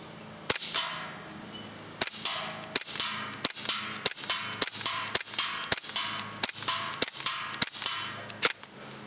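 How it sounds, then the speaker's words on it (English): KWC Taurus PT92 airsoft gas blowback pistol firing BBs in a rapid string of about fifteen sharp, snappy cracks, each with a brief slide clack, spaced roughly half a second apart and fairly close, with no talking. "Now here we go. Let's take a few shots."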